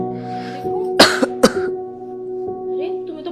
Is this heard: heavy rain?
no